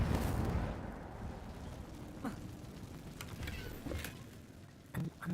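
Incendio fire spell cast in Hogwarts Legacy inside a cave: a soft rumbling whoosh of flame that fades within a second, followed by faint scattered clicks and rustles in a quiet space.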